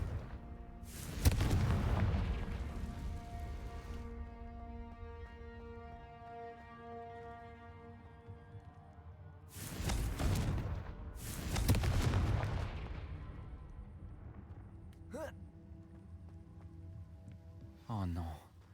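Blasting-spell explosions from the Hogwarts Legacy video game: two loud booming bursts several seconds apart with rumbling tails, set over a steady game soundtrack, with smaller magical effect sounds near the end.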